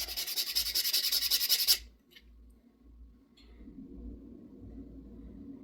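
Metal is filed or ground off a pendant bezel in a quick run of rhythmic rasping strokes, close and clear, then a quieter rubbing and scraping after a short pause.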